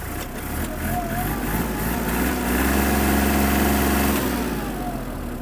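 A Kubota GL-25 mini tractor engine runs steadily and then revs up, rising in pitch and holding before easing back, loud and close.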